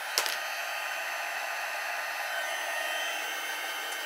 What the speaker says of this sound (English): So we're just going to heat set this.